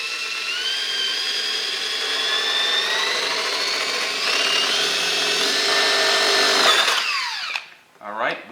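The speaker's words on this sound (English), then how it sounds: "So I'm going to go ahead and set my drill up. We're going to drill right through that." A power drill bores through a plastic panel during a cold air intake install on a 2018-2023 Toyota Camry V6, a loud sustained whirring that slowly rises in pitch, then stops abruptly and is followed by a brief voice.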